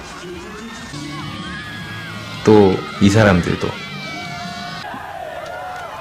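Football stadium crowd of over 4,000 at an Asan Mugunghwa match cheering and shouting, a steady roar with two louder bursts of shouts and whoops midway, while a narrator speaks over it.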